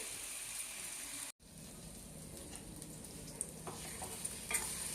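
Tomato curry mixture for egg curry is stirred in a pan, a soft continuous sizzle with faint scraping and gentle wet stirring, briefly cut off near the start, no talk.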